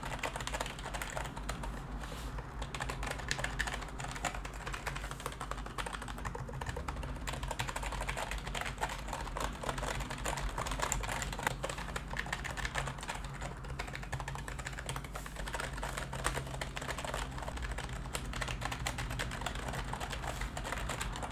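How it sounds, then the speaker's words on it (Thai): Typing on a Signo KB-717 rubber dome keyboard, a steady stream of soft, muted keystrokes close up with no talking, continuous for about twenty seconds. "เดี๋ยวส่วนต่อมาเรามาฟังเสียงตัวคีย์บอร์ดดีกว่านะครับว่าเสียงตัวคีย์บอร์ดจะเป็น ยังไงมาฟังเลยครับ"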